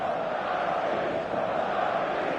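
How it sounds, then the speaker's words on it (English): Stadium crowd in the eFootball video game, a dense steady roar of many voices cheering and chanting, continuous and even in level throughout. "The stadium is full of noise and energy."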